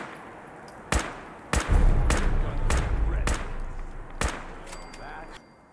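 Gunfire in the video game Fallout 4: sharp individual shots ring out at irregular intervals, six or so loud cracks over a low rumbling game ambience, with no voices.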